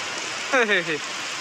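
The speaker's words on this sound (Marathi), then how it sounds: "अचानकच चालू झाला भाऊ पाऊस" Steady hiss of rain falling continuously, with a brief voice speaking over it midway.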